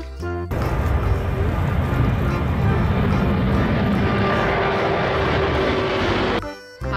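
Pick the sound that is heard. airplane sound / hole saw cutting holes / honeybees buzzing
airplane sound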